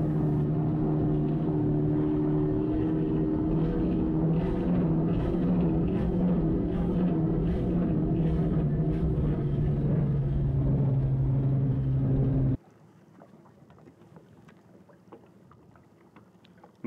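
Formula 4 racing boat engine planing on water, a loud steady droning roar with a strong low hum that holds for about twelve seconds, then drops abruptly to faint distant noise.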